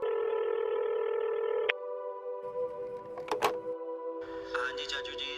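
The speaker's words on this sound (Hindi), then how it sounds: "अचानक मुझे एक फ़ोन आता है।" A phone's steady electronic ring tone sounds loud and close, then breaks into shorter beeping tones and blips as the incoming call comes through, with a person speaking over the later part.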